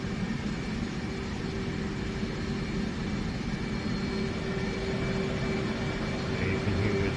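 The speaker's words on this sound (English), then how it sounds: "you can hear the change in the airflow on the jet" F-18 jet in DCS during a cold start, steady broadband turbine roar and airflow rush with a faint whine, constant level throughout, no talk over it.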